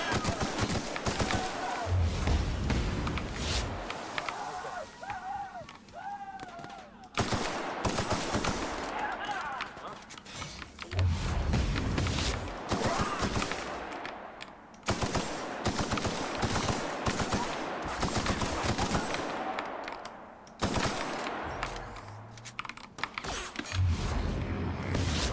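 Enemies in the video game The Outer Worlds open fire in repeated bursts of rapid automatic gunshots, loud and dense, broken by short gaps, with a voice talking over parts of it.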